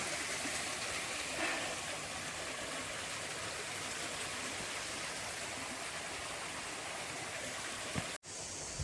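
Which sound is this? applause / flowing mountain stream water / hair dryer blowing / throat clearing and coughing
flowing mountain stream water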